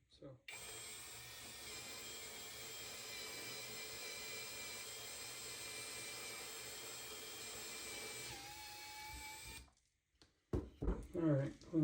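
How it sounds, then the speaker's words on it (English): A power drill bores a hole in wood for a handcrafted cross, a steady high motor whine that runs for about eight seconds, winds down, then gives way to silence and a few clattering handling noises. "I'm going to go ahead and drill here"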